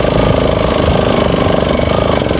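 A motorcycle engine idles up close, loud and steady, with a fast, even chugging pulse and no voices.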